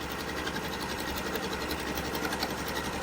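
A Janome Continental M6 sewing machine stitches while quilting fabric on its flatbed, a fast, steady, even mechanical whirr running close and unbroken throughout.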